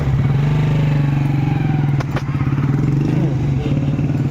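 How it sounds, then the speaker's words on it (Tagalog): A motorcycle tricycle idles and pulls away close by on a street, a loud steady low engine drone with rattling clatter and a few knocks throughout. "si Bombay, buti na lang po at sumakay sa tricycle."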